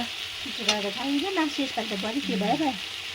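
A pan of bitter gourd sizzles steadily as it is fried and stirred in a rural Nepali kitchen, the constant hiss running throughout while a voice talks over it.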